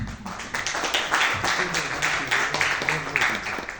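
An audience claps at a book presentation in a school, steady rhythmic applause with distinct individual hand claps, fairly close and lively throughout.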